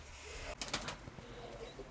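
An old female pigeon coos once, a short soft call rising out of quiet low background noise.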